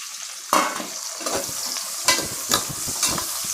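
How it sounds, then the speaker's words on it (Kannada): Chopped onions frying in ghee in a pan for Mangalore-style ghee rice, a steady sizzle broken by several sharp scraping stirs, close and fairly loud, with no voices. "ಇದು ಈರುಳ್ಳಿ ಬ್ರೌನ್ ಕಲರ್ ಬರೋ ತನಕ ಈ ತುಪ್ಪದಲ್ಲಿ ಈರುಳ್ಳಿಯನ್ನು ಫ್ರೀಬೇಕು"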